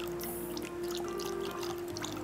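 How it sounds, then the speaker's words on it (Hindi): About a quarter cup of water poured into whisked yogurt for raita, a soft steady trickle over a low background hum. "थोड़ा सा पानी डाल दें 1/4 कप"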